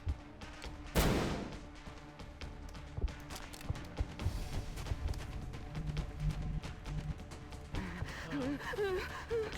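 XCOM: Enemy Within Long War match with a flashbang grenade going off: one sharp bright burst early on, then scattered clicks and faint combat effects with a warbling tone near the end, fairly quiet overall.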